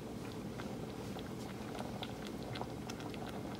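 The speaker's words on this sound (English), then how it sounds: "I think we're successfully at a boil" Pot of beans with a bay leaf and a whole chipotle pepper at a boil, giving a steady low bubbling rumble with scattered small pops and blips, close and continuous with no talking.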